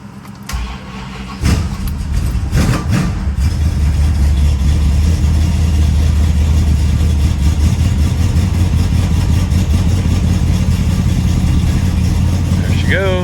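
An old project car's engine cranks over on a jump start with a few sharp bursts, then catches and settles into a loud, steady idle with a low rumble that runs to the end.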